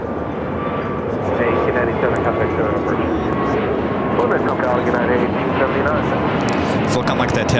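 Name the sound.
China Airlines Airbus A350-900 airplane pushing back at LAX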